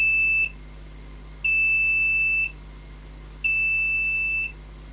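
The buzzer on a DIY 18650 lithium-ion cell capacity tester gives three evenly spaced, one-second electronic beeps of moderate loudness over a faint background hum.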